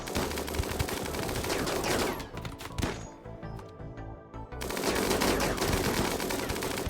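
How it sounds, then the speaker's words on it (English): Rapid rattling gunfire fills a RimWorld battle with dense bursts of shots, drops to near silence for about two seconds, then opens up again just as loud, with no talking. "Oh, Skyra caught a friendly bullet."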